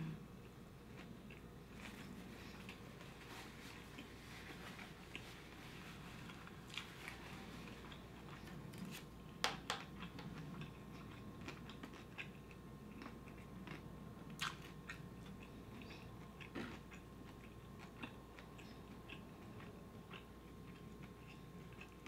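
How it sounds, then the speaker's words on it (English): Someone chewing mushy, slightly hard kimbap rice close up, a steady soft mashing with scattered sharper crunchy clicks over about twenty seconds, no talking. "The rice in here, it gets kind of hard to chew because it's kind of mushy"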